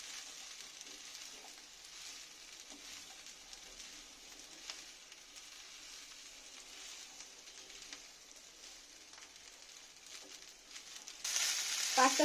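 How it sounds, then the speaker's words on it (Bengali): Boiled pasta with capsicum and carrot is stirred in a frying pan for chicken pasta, a soft, steady sizzle with faint scraping, quiet throughout and growing louder near the end. "এবার একটু ভালো করে আমি একসঙ্গে সব মিশিয়ে নেব।"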